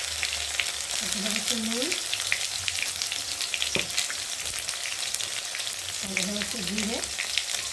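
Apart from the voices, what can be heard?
spices frying and sizzling in a pan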